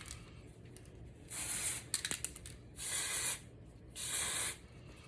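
Dry shampoo sprayed from an aerosol can onto greasy hair, three long hissing bursts a second or so each, close and fairly loud, with soft handling clicks between them.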